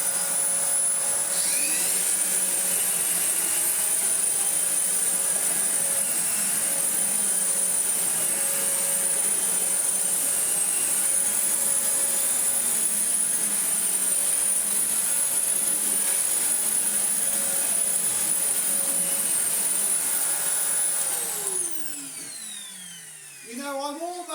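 A Bissell Liftoff bagless vacuum cleaner runs with a loud, steady high-pitched whine and rushing airflow, then winds down and stops near the end.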